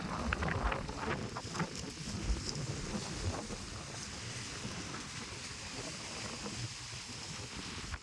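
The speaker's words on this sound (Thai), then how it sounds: "ลมแรงอะไรก่อนเนี่ย" Strong wind buffets the microphone at the Khao Kho post office viewpoint in Thailand, a steady, loud, broadband rush with gusts throughout and no clear talk.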